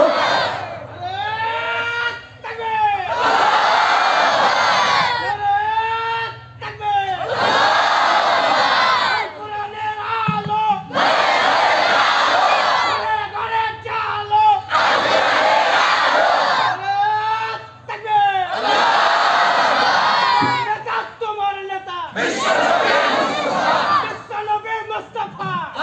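A crowd at an Islamic mahfil religious gathering in Kadipur, Rajshahi shouts the takbir chant in loud unison, about six sustained roaring bursts separated by short pauses, filling the space.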